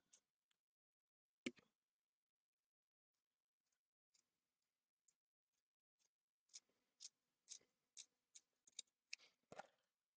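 Scissors snip through mask fabric in a quiet room: a lone early cut, a few soft ticks, then a quick run of about a dozen sharp, close clipping strokes near the end.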